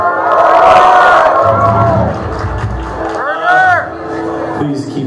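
A concert crowd at the Beachland Ballroom cheers and shouts loudly, a dense roar of voices with whoops that dips midway and swells again as someone speaks over it.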